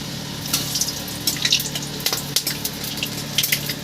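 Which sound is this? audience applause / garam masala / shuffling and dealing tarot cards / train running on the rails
garam masala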